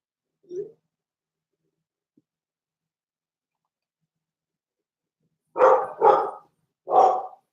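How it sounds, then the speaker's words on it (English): Dogs bark nearby: one short yip, a long quiet gap, then three loud barks in quick succession. "Dogs are barking."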